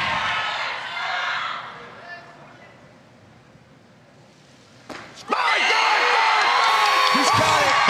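A weightlifting crowd at the 2017 IWF World Championships, men's 77 kg session, roars and cheers after a clean and jerk, a loud swelling wall of voices after a quieter stretch, with commentary talk over it.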